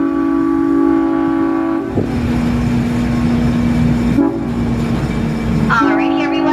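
A Hawaiian Railway train rumbles steadily along the track while its horn sounds in long, loud sustained blasts, briefly broken off and resumed, with a louder final blast near the end.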